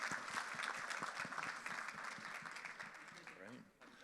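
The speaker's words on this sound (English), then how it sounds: "So a big round of applause for our co-designers." Audience applause for youth panelists at a conference youth panel, a steady crowd clapping that fills the room, then fades toward the end.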